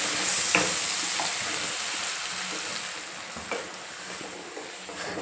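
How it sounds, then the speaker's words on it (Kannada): Green chicken sizzles in a hot pan as masala is stirred through it, with steady frying hiss and a few scraping strokes of a spoon near at hand. "ಮಸಾಲ ಹಾಕಿದ್ಮೇಲೆ ಒಂದು ಸ್ವಲ್ಪ ಫ್ರೈ ಮಾಡ್ಕೊಳ್ಳಿ"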